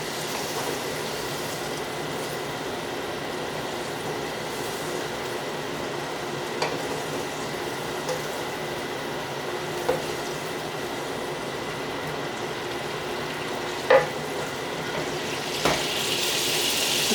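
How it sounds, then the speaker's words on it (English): Vegetables sautéing in a pan for a chicken stir fry give a soft, steady sizzle, broken now and then by faint clicks and taps of a utensil. "We're going to saute the veggies for about 2 minutes, 2 to 3 minutes."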